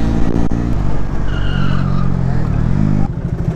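A motorbike does a short burnout, its rear tire skidding with a squealing screech over a loud, rumbling engine close by, lasting a few seconds.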